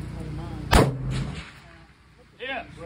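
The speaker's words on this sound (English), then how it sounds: "That was off to the left, Jimmy. Need to check your rifle." A single sharp rifle shot at a long-range shooting setup, loud and close with a brief echoing tail, followed by a fainter thump a moment later.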